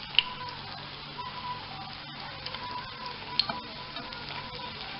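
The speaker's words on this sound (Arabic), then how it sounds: "انا كنحمر حتى كياخد هذا اللوين هذا، كنزولهم من الزيت" Savory Moroccan briwat pastries fry in hot oil with a steady, close sizzle and crackle, broken by a couple of soft clinks of a utensil.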